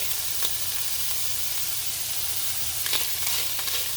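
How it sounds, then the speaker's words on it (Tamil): Onion and garlic fry in a pan for chili with a constant, close sizzle broken by a few quick spatula scrapes, one early and a cluster near the end, with no speech. "the onion garlic அப்படியே சாட்டே பண்ணுறேன்"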